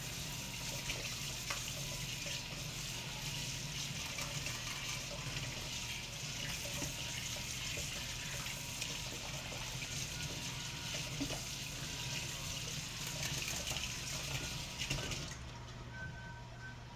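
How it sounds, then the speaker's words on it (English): Tap water runs steadily into a kitchen sink while an ice cream scoop is rinsed, a faint, continuous splashing hiss that stops abruptly near the end. "I'm going to wash my ice cream scoop."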